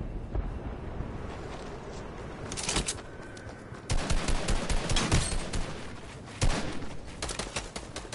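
Rapid Fortnite gunfire crackles in repeated bursts and sharp volleys, some shots louder and closer, over a steady background of game noise.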